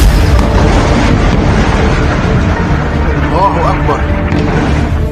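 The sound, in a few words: bombing explosions in Lebanon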